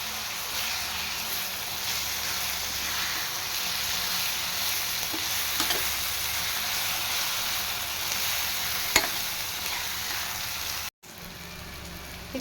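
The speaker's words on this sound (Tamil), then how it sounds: "இப்போ இது எல்லாத்தையும் சேர்த்து நல்லா மிக்ஸ் பண்ணி விட்டுக்கலாம்." Spices sizzling and frying steadily in hot oil for an egg masala curry, a dense hiss that runs throughout with a few faint stirring scrapes, then a sudden brief cut before the sizzle resumes.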